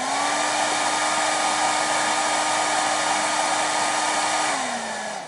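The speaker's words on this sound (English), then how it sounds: "or a hair dryer, work just fine, and gently warm up that area before applying your trim" Up close, a hair dryer blows a steady, loud whooshing hum as it gently warms the trim area on a Ford F-150 for carbon fiber trim. The motor tone holds even and then dips slightly near the end.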